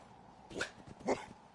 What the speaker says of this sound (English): There's our junkyard dog we put here at the settlement.